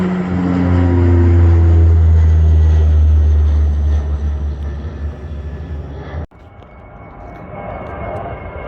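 An SAS Airbus A320-200 airliner at Bergen Flesland airport roars loudly and steadily with engine noise, then the sound drops off abruptly and a quieter, broad rumble continues.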